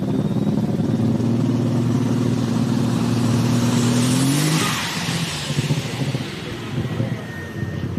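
A pulling truck's engine roars loud and sustained down a truck and tractor pull track at high revs, its pitch climbing steadily before dropping off abruptly into a rougher, uneven rumble.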